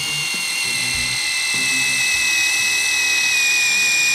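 A drill fitted with a Bad Dog multi-purpose bit bores through stainless steel, a steady high-pitched whine holding loud and close throughout, with faint low knocking beneath it and no talking.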